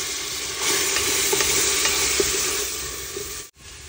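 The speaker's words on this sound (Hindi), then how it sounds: "तड़का लगा के इसको मिक्स करेंगे।" Steady sizzling of spices tempering in a hot pan up close, with light stirring scrapes and clinks, no one talking.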